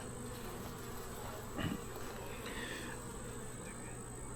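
Honey bees hum and buzz steadily at an open hive, a soft continuous drone with a few individual bees passing close.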